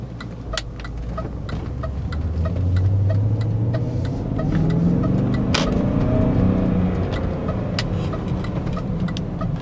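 Steady, loud engine note of a 2000 BMW E39 M5 running at about 3,000 RPM at low speed, a continuous mid-pitched drone with some slow rises in tone.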